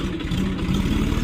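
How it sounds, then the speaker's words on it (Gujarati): A tractor engine runs steadily close by on a farm while a trolley is emptied, giving a continuous low, chugging rumble with an even pulse and no voices. "મયુરભાઈ તો જો ઘણા ટ્રેક્ટર અકલાવે છે."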